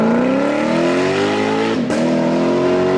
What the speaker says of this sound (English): The LC500 is a great and frankly underrated car that pushes 471 horsepower via a 5-liter V8 that sounds heavenly.